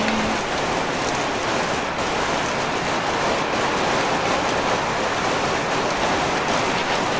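Heavy rain pours down steadily outside a house, a dense, loud and unbroken hiss of drops striking surfaces with no pauses and no voices.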